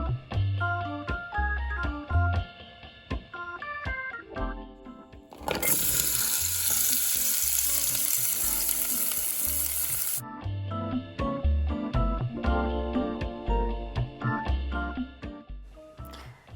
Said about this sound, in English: we're going to cut those things up and saute them in a little bit of oil to